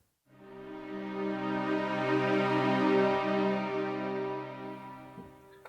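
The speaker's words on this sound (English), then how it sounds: "it's ensemble dynamic bowings" A sustained string ensemble chord bowed slowly, swelling in volume and then easing off, warm and full with no other sounds.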